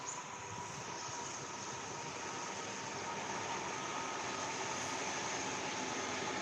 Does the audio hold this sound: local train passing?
yes